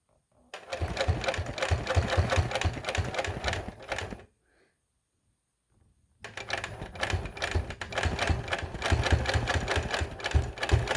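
A sewing machine fitted with a 360 Wonderfoot stitches at a slow, steady rhythmic clatter, stops for about two seconds of silence, then resumes the same close, even mechanical chatter.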